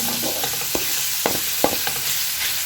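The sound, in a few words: garlic sautéing in a pan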